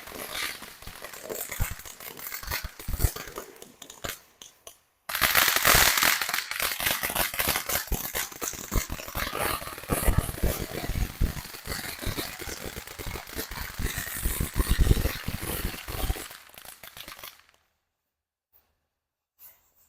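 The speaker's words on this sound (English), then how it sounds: "The crackle is massive. Got some little zippers in there." Backyard fireworks give off a massive, dense crackle mixed with zipping whistles, a loud sustained barrage of sharp pops lasting over ten seconds before cutting to silence.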